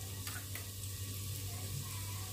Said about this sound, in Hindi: इधर जब तक चिकन भून रहा है, प्याज भून रहा है